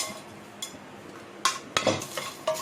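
Whole spices with cardamom dry-roasting in a pan for garam masala, heard as faint scattered taps and scrapes of a spoon stirring against the metal, close by and otherwise quiet.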